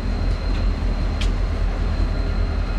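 Iowa Northern locomotives making a power move between rail yards in Waterloo, Iowa, with a steady low diesel rumble close by and a few faint metallic squeals over it, no talking.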